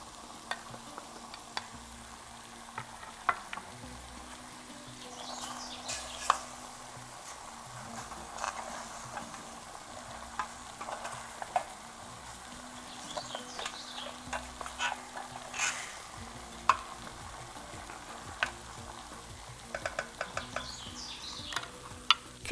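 Beef tagine with tomatoes simmering in a pot with the lid off, a steady low bubbling and sizzle broken by occasional scraping and stirring clinks near the mic, with no talk over it.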